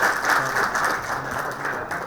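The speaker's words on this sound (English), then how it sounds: "Everyone, a huge round of applause for the gentleman." Audience applause at an agro-industry knowledge session, steady dense clapping from a crowd sustained throughout with no speech over it.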